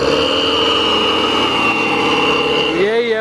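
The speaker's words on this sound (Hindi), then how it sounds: "एग्जॉस्ट फुल सिटी मारता है भाई।" A Mahindra Thar 4x4 engine runs loud and close, its exhaust holding a steady drone before the pitch bends near the end, with a voice speaking over it.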